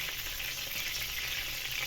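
Mustard seeds frying in about three spoons of hot oil while a fenugreek-leaf curry is being started, producing a close, steady, even sizzle from start to finish.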